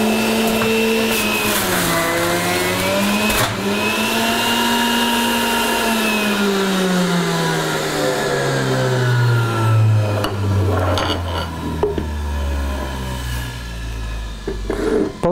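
An electric juicer grinds beetroot and apples, a loud continuous motor whine that rises and falls in pitch as the produce is fed through, with nobody talking over it.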